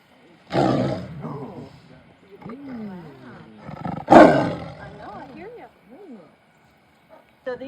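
A female tiger at a wildlife facility in McHenry lets out two loud, close roars, each followed by trailing growls and snorts, with quieter rumbling between them.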